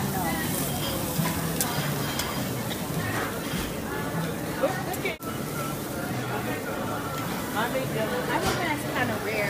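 Meat sizzling on a grill at a birthday dinner, a steady crackling hiss running throughout beneath several people chatting and laughing nearby.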